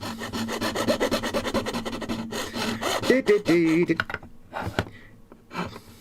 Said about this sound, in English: Now this might get loud because I'm going to be sawing